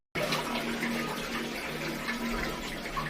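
Water rushes steadily through a newly fitted toilet flush valve, a continuous close hiss of flow with faint voices underneath.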